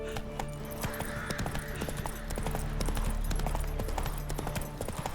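Hoofbeats of Roach, the horse in The Witcher 3: Wild Hunt, trotting in a steady clip-clop rhythm close by, with ambient game sound underneath and no talking.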